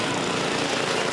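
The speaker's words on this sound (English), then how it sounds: "He is starting to move through the field on his factory experimental lawnmower." A factory experimental racing lawnmower engine drones steadily and loudly with a dense, unbroken roar as it moves across a field at a motorsports event, with no talk.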